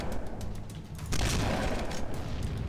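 Shotgun fire in the Halo game, a loud burst of blasts cutting in after a quieter stretch and continuing with scattered shots, close and dense.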